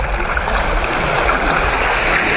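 Sea waves breaking near the shore, heard as a loud, continuous rushing wash of surf with no pauses and no voices.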